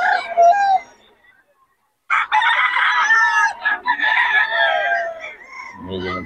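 Roosters crowing and chickens clucking at a poultry market, several loud nearby crows in succession with a short quiet gap, and a voice speaking at the very end.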